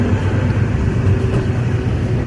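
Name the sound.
train passing by on nearby railway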